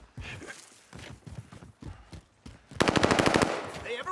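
Enemy gunfire in the Call of Duty: Modern Warfare video game: scattered single shots, then a loud rapid automatic burst, with brief muffled voices in between.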